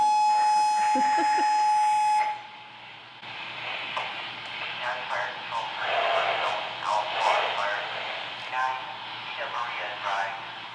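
A steady electronic fire station alarm tone sounds for about two seconds, then stops, followed by people talking and moving about in a busy room.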